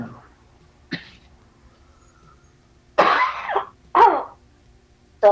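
A woman indoors, chilled from cold weather, gives a soft throat sound, then two harsh, close coughs a second apart and the start of another, with no talk.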